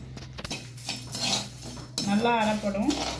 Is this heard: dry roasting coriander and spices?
yes